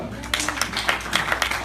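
Church congregation applauding during a sermon: scattered, moderately paced claps rising over a low background hum, fairly faint and somewhat distant.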